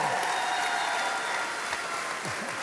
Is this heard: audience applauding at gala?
yes